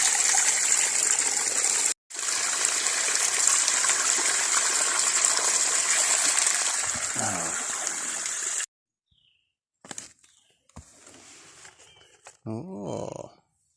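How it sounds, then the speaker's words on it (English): Small waterfall along the Appalachian Trail, a steady broadband rush of falling water that fills most of the clip, briefly cut out, then drops away to quieter trickles and rustling near the end. "There's even another waterfall down here."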